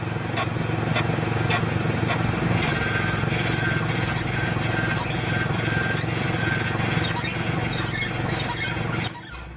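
Unlubricated ball joint in a vehicle suspension, a steady grinding squeal with repeated creaking pulses over a constant mechanical drone, loud and close, then cutting off abruptly near the end.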